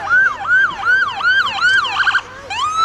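Two ambulance sirens wail loud and close at an emergency services day in Chichester, rising and falling in a fast repeating sweep that overlaps into a busier two-tone clash as the big yellow vehicles roll in.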